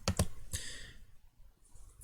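A computer mouse clicks while working in FreeCAD's Curves Workbench, with two quick sharp clicks, then a third click followed by a soft trailing sound and near silence, up close.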